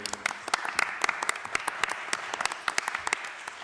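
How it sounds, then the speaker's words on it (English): An audience claps for candidates at an indoor event: a moderate round of applause with distinct individual claps popping out over a steady wash, holding evenly throughout. "So a round of applause."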